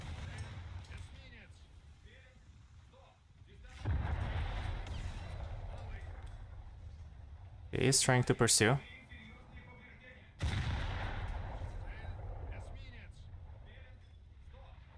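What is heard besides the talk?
naval gunfire in War Thunder video game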